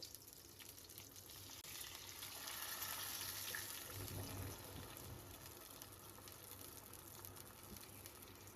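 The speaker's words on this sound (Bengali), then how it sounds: "আমি ততক্ষণে গোবিন্দভোগ চালটা ধুয়ে নিই" Water runs steadily from a tap while Gobindobhog rice is rinsed, with a soft splashing gush and a faint clatter partway through. The sound is quiet and continuous for several seconds, and nobody talks.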